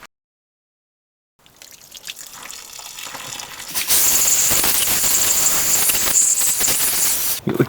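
Water gushes out of an engine's drain plug during a head gasket job, starting after a short silence as a soft trickle, then opening into a loud steady hissing rush that stops abruptly at the end.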